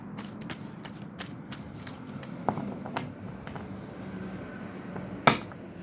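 Tarot cards are shuffled by hand at close range, giving a run of soft riffling flicks and taps, quiet overall, with one sharper snap near the end.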